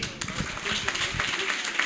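Applause at a school prize ceremony fills the room as a steady wash of many hands clapping, fairly distant and moderate in level, with faint voices underneath.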